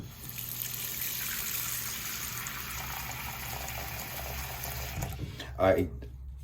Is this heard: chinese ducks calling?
no